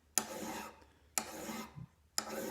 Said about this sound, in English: Just filing it down